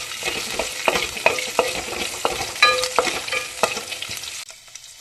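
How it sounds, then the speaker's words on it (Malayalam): Green chillies and onion sauté in a hot oiled pan for a tapioca dish, a steady close sizzle with repeated spatula scrapes and taps, no voices. "പിന്നെ 2 പച്ചമുളക് ജസ്റ്റ് ഒന്ന് വഴറ്റിയെടുക്കാം"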